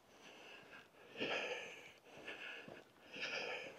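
Heavy, rhythmic breathing close to the mic, a few loud raspy breaths in and out with short pauses between them.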